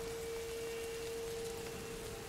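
Rain falls steadily in the video game A Plague Tale: Innocence, a dense even hiss of drops with a faint constant tone beneath, no voices.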